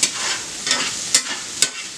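Steady crackling sizzle of a stir-fry cooking in a pan, with a few sharper bursts of spitting as it cooks; no voices.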